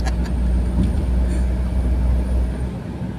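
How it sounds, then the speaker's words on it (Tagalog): A noisy car engine drones steadily while driving, a rough continuous rumble with road noise and a faint high whine, loud and close throughout. "Pasensya na guys kasi maingay yung sasakyan natin."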